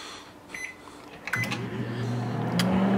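A microwave oven hums steadily while heating an open bag of potting soil, its low drone rising and settling in after a few faint clicks, with no talk.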